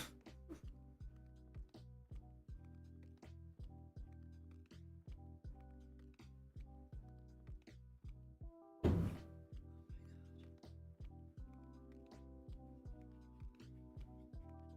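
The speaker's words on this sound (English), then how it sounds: "I'm really sorry if you can hear that banging. We've got a little bit of a water hammer situation in this house." Water hammer in a house's plumbing, a single loud bang from the pipes standing out over steady, rhythmic tapping and clicking from other activity nearby.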